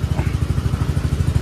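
Motorbike engine idling and moving near a railway crossing gate, a steady low chugging pulse throughout, close and moderately loud.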